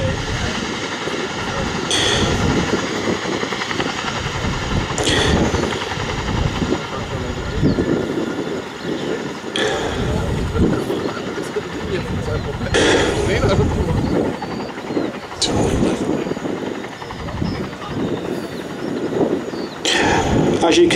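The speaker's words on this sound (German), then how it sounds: "The crew are now performing a running landing, a maneuver that allows the Chinook to land like a conventional aeroplane." A Boeing-Vertol CH-47 Chinook tandem-rotor helicopter performs a running landing at the ILA 2016 air show. It produces a loud, continuous roaring rumble with periodic surges, heard under an announcer's commentary throughout.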